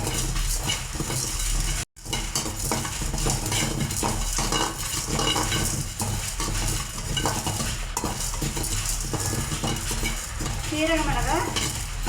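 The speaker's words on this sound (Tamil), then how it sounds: "சீரகமும் மிளகையும் நம்ம நல்லா வறுத்து எடுத்துக்கலாங்க" Cumin seeds and black peppercorns dry roast in a hot pan, stirred steadily with a utensil. The sound is a constant close scraping and rattling, with faint sizzling underneath and no talking.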